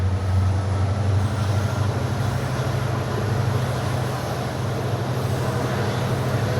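A moving passenger train on the Bathinda–Firozpur line hums steadily from inside near Gangsar Jaito, a continuous loud low drone with rail rumble and no talking.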